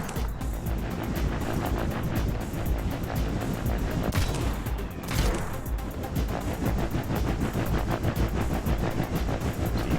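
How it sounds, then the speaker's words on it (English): Rapid, sustained cannon fire from belly-mounted guns on a built aircraft in the game Trailmakers, a dense continuous rattle of shots with a brief louder burst midway, close and loud with no talking. "We have some belly cannons, left shift."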